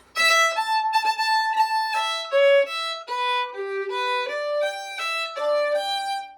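A bright plucked or bowed string instrument plays the lively folk tune "Round the House" in short, distinct notes, solo and close, with no voices.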